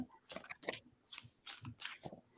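A deck of reading cards being shuffled by hand: several crisp riffling bursts and soft slaps in an uneven rhythm, close and moderately loud, with no talk.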